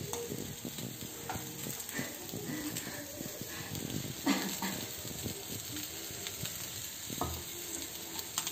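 Fish frying in oil in a pan for a fish party, a steady close crackle and sizzle with scattered pops and stirring clatter, running continuously with no talk.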